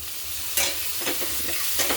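Soaked moong dal is stir-fried in a pan with a ground masala paste, giving a constant sizzle broken by a few sharp scraping strokes of the spoon.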